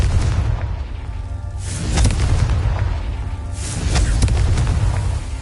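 Confringo fire spell explosions in the Hogwarts Legacy video game, two deep booming blasts a couple of seconds apart over a continuous low rumble, with no talking.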